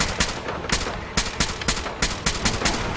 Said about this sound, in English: A few warning shots usually suffice to scare that rabbit off.